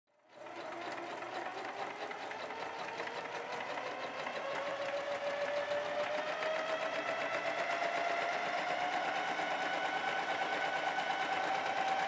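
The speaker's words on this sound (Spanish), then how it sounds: "Realizaremos costura con overlock también en la parte trasera." An overlock sewing machine runs steadily for about twelve seconds while stitching the back seam of a faux leather jumper, a fast, even mechanical whir that holds close and loud with no pauses and no talk.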